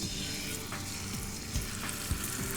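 Pork, skin side down in a very hot pan, sizzling in a steady broad hiss with a few soft clicks and bumps of the pan, close and continuous, nobody speaking.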